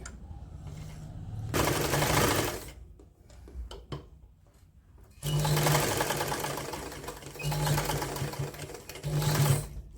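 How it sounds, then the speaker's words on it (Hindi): A sewing machine stitching woollen socks runs in several loud, rapid bursts of close mechanical clatter, with quieter pauses between the runs. "तो यहाँ सेंटर से हम सीलना शुरू करेंगे।"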